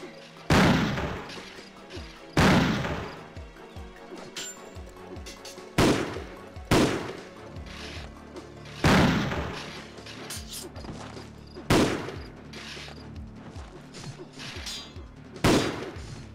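Gunshots from a gun in Pirates of the Caribbean: New Horizons ring out in single loud blasts every couple of seconds, each with a short decaying tail, over a quiet ambient bed.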